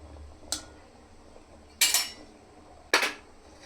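Green peas and raw mango salad being mixed in a bowl, heard as three sharp clinks of a utensil against the bowl, spaced about a second apart, over quiet background.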